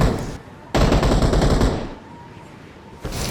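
Bursts of automatic gunfire from a PUBG Mobile match: a short volley, then a sustained loud burst of rapid shots lasting about a second, a quieter stretch, and another burst at the end.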